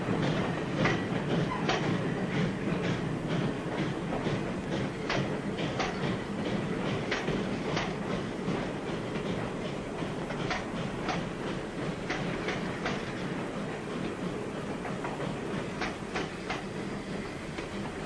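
A steam-era passenger train in a 1940 Western rolls steadily on its rails, a continuous loud rumble with regular clickety-clack wheel beats over the joints throughout, no voices.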